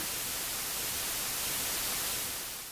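Steady, dense radio static standing in for the cosmic background noise from the Big Bang, a loud, unbroken hiss that fills the whole stretch alone.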